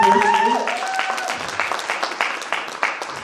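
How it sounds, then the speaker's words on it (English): An audience applauds for the speaker's wife at a confidence workshop, steady clapping that starts out full and thins into scattered claps over a few seconds. "I think she deserves a round of applause"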